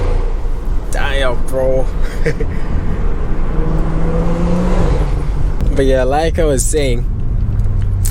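BMW F30 sedan accelerating hard, a loud, constant engine and road roar filling the cabin, with someone talking over it throughout.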